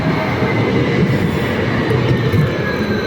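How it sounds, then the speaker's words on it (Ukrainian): A tram pulls into a street in Kraków with a loud, close rumble of wheels on rails and a faint thin squeal drifting across the steady roar, with no talking. "От Вже під'їжджає наступний трамвай."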